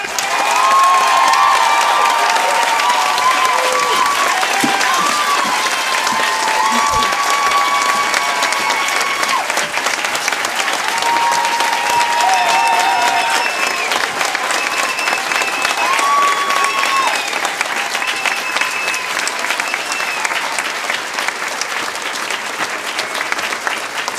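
A crowd at a Yale commencement ceremony claps in sustained applause for over twenty seconds, with cheers and whoops mixed in, slowly thinning toward the end.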